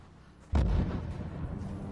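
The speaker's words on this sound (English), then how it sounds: "there's explosions coming from my controller speaker" A sudden heavy explosion bursts from a game controller's built-in speaker during Rise of the Tomb Raider on PS4 Pro, a deep booming blast followed by a rumbling, crackling tail that carries on to the end.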